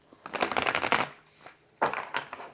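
A Wild Unknown tarot deck with an unusual card texture being shuffled by hand, heard as two close, crisp bursts of riffling and flapping cards separated by a brief pause.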